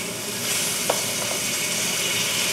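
Pancake batter fries in a pan with a steady, close crackling sizzle, a light scrape or clink of a utensil cutting through once, no voices.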